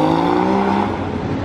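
Bugatti sports car engine on a Monaco street, revving loud and close with a sustained high whine that rises, then eases off as the tone breaks into rougher rumble.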